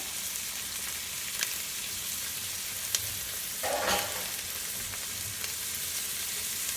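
Fresh minced jalapeno pepper drops into a hot pot for a Mexican vegetarian soup, a low steady sizzle with a few soft stirring clicks and one brief louder burst midway.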